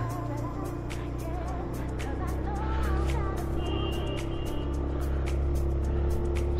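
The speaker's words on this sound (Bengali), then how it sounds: "সন্ধ্যাবেলা গাড়ি চালাচ্ছি আমি দার্জিলিং এ" A car driven in the evening on hilly Darjeeling roads, its engine holding a steady, continuous drone from inside the cabin with faint road noise and occasional clicks, no voices.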